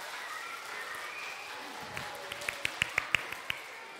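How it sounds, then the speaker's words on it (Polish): A preschool audience at a chamber concert claps in a short burst of several sharp, scattered hand claps that rise and stop quickly, heard near over faint room ambience. "Oklaski."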